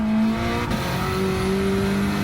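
A car in Gran Turismo 7 laps the Nürburgring, its engine droning steadily at high revs. Pitch dips briefly and climbs again through a gear change or lift, close and loud, with no talking.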